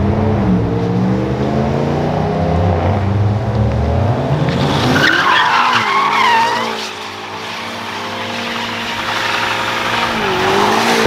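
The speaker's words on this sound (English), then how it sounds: "We're going to smoke the tires real quick." A 900-horsepower BMW M5 does a burnout with its tires smoking, the engine roaring loud and close while the rear tires screech and skid steadily for several seconds, the revs rising and falling.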